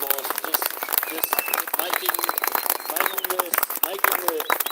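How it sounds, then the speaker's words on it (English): A crowd at a live gathering of freedom protesters applauds, a dense, busy wash of many hands clapping close by with voices talking and calling over it. "please give yourselves a round of applause"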